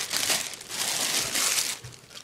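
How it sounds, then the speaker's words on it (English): Tape being pulled and peeled off the packaging of an Infinity subwoofer, a steady close crinkling and tearing rustle lasting a couple of seconds with no talking. "Take the tape off this."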